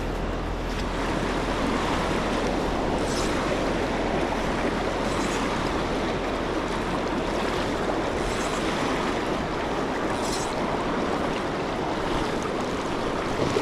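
Water rushes steadily over a long riffle on a wild trout stream in winter, a continuous broad close roar with faint wind, no voices.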